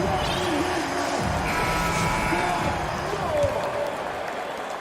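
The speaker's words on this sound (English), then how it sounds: "Please give a big round of applause for your Grizzlies" Crowd applause and cheering roar steadily throughout in the NBA 2K23 basketball video game, with an announcer's voice speaking over the noise of the arena.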